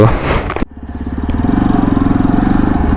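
A Yezdi Adventure 2025 motorcycle starts off after a brief burst of wind noise, its engine settling into a steady, close, throbbing pulse as it is ridden.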